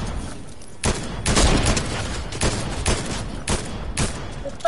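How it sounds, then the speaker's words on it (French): Sniper rifle fire in Fortnite, a string of sharp, loud shots spaced roughly every half second to second, with no talk over them. "il tire mal le snipe"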